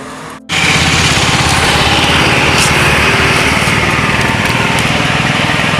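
Motorbikes run along a road in Guwahati. After a brief dip, a loud, steady, buzzing engine drone sits close by and continues to the end.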